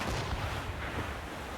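Heavy ship cannon fire in the video game Assassin's Creed Rogue, a dense booming roar of overlapping blasts that rumbles loudly throughout the short moment with no voices.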